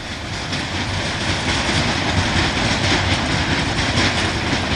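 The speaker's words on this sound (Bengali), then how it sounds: "এই ট্রেন ঢাকা থেকে কক্সবাজার পর্যন্ত বিরতিহীন চলাচল করে" A passenger train on the Dhaka to Cox's Bazar line rumbles along steadily, its wheels clattering in a continuous loud, close roar with rhythmic clickety-clack and no voices.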